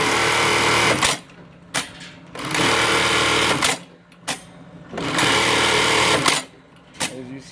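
An AT1850 42H bartack sewing machine stitches with heavy-duty B69 nylon thread in loud, steady whirring bursts of roughly a second, four runs separated by short pauses with brief clicks.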